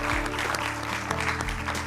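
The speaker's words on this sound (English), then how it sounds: "please join me in a round of applause as we welcome these 2 wonderful women" Studio audience applause welcoming two women onto a television programme, a loud, continuous wash of clapping with a low musical bed underneath.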